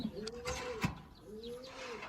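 Domestic pigeons kept indoors give two soft, rolling coos close by, with a faint knock between them.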